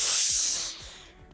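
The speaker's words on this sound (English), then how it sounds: "I'm going to grab my iron and steam it and get it to be nice and crisp." A steam iron blasts a loud, steady hiss of steam onto a fabric seam laid over a pressing ham, the burst tapering off after about a second with faint soft thumps beneath.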